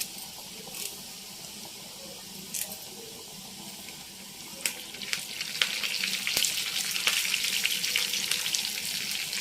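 Crushed garlic and curry leaves frying in oil for a village-style dal rasam, a soft hiss broken by sharp crackles, growing into a louder, dense sizzle in the second half.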